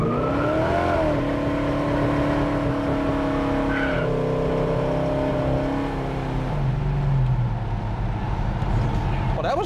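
A loud 1969 Plymouth GTX engine revs hard and climbs through its gears while tires squeal, continuous and close throughout.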